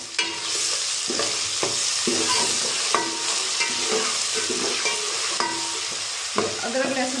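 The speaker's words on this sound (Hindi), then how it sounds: "अब इसमें मैं अदरक लहसुन का पेस्ट डालूंगी" Ginger garlic paste frying with golden-fried onions in a pan for methi aloo salan, a steady loud sizzle with repeated scraping stir strokes throughout, no talking.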